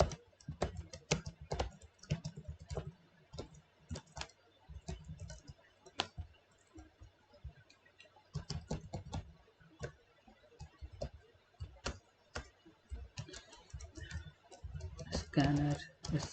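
Computer keyboard typing in quick bursts of close, crisp key clicks with short pauses while code is written, steady and moderately loud throughout.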